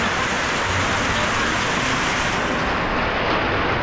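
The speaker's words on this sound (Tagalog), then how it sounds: "Grabe, lakas ng ulan." Heavy rain pours down outside a bakery in Mindanao, a loud, dense, unbroken roar with no pauses.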